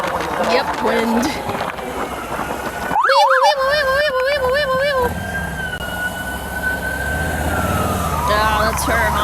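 An emergency vehicle siren wails loudly in a sweeping up-and-down pattern for a few seconds near the middle, close by amid street traffic, with people talking over it.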